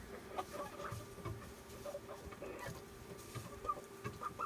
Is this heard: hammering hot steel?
no